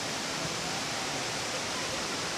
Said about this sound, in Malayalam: കാടിന് നടുവിലാണ് ഈ വെള്ളച്ചാട്ടം.